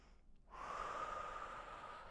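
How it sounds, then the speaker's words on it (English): A long, steady exhale through the nose or mouth during a yoga warrior pose in a power vinyasa class, starting after a brief quiet moment and holding evenly at close range with no talking. "Take 3 breaths here."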